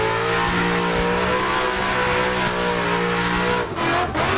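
A BMW E36 engine in the Assetto Corsa driving game revs hard during a drift, a loud sustained buzzing drone with steady harmonics, briefly dipping and surging near the end.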